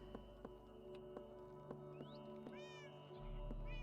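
Minecraft cats mew several times in short, high, rising calls, faint and close against a steady ticking background of game music.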